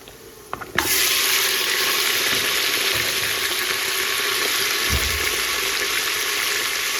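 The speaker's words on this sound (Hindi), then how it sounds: "अब मैं इसके अंदर जो है ये गोश्त डाल दूँगी" About half a kilo of meat is dropped into a pan of hot onions and bursts into a loud, steady sizzle after a brief clatter, then keeps frying evenly close by with no talking.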